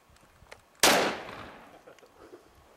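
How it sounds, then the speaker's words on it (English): A single loud, close shotgun blast cracks out alone, followed by a long fading outdoor echo and then quiet. "That's what's nice about a shotgun."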